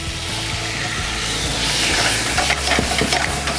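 Basil Hayden bourbon hitting a hot pan alongside steak, a loud close sizzle with scraping and stirring clatter building toward the end.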